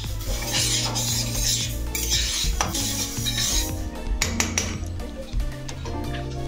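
Moong dal dry-roasting in a hot kadai, with dense, continuous scraping and clinking of a spatula against the metal pan and occasional sharper knocks, loud and close throughout with no talking.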